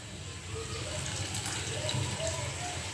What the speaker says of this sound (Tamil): இது கூடவே கொஞ்சமாக தண்ணி சேர்த்துக்கலாம்.